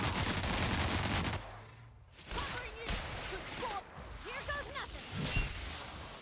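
Gunfire in The Outer Worlds strikes a rock as a dense burst of rapid shots, followed by scattered crackling hits and whooshing effects, with a voice speaking over parts of it.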